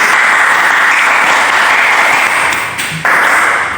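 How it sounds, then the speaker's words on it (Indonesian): Classroom audience applauding during a lesson on the Umayyad dynasty, a dense, steady burst of many hands clapping at close range that eases slightly near the end. "Bagus, tepuk tangan dulu."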